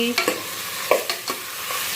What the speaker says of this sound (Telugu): ముక్కలన్నిటిని ఒక్క నిమిషం పాటు వేగనివ్వాలి